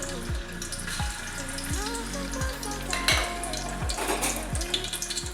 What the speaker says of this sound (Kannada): ಹಾಕಿಬಿಟ್ಟು ಒಂದು ಸ್ವಲ್ಪ ಎಣ್ಣೆಯಲ್ಲಿ ಫ್ರೈ ಮಾಡ್ಕೊಳ್ಳಿ.